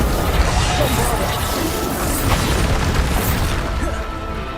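In the Hogwarts Legacy video game, the Bombarda spell bursts into a loud, booming explosion, followed by crashing debris and a rumble that fades over a few seconds.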